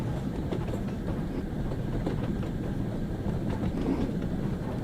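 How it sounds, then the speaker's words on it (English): A steady low rumble of a train rolling along in Train Sim World 2, with faint repeated clacks from wheels passing rail joints, continuous and moderately loud. "The track joint sounds actually sound really cool on here."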